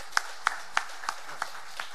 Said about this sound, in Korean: 우리 하나님께 영광의 박수 돌립시다.